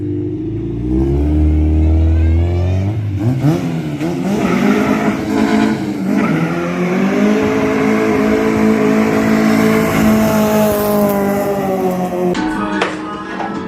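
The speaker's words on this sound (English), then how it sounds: "Second gear burnout." A car does a second-gear burnout, its engine roaring loud and steady for over ten seconds with rising revs and squealing tires, close by, with no talk over it.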